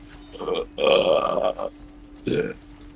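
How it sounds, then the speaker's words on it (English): A man lets out a long guttural burp followed by a shorter one while playing Crash Bandicoot 4, loud and close to the microphone with a steady hum underneath. "Of course, burp as well."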